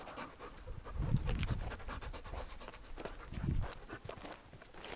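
Dogs pant in quick, rhythmic breaths close by, with soft shuffling and footstep-like thumps, with no one talking.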